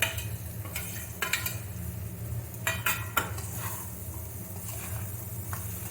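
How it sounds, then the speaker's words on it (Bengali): A fish head going into a pan for Bengali murighonto, with the spoon scraping and clinking against the pan in several sharp bursts over a low steady sizzle, nearby and fairly quiet. "এবার মাছের মাথাটা এর মধ্যে দিয়ে দেবেন।"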